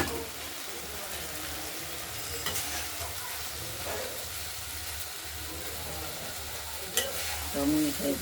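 Banana flower ghonto stirred in a frying pan, with a steady soft sizzle and occasional scraping spoon strokes close by, and no talking.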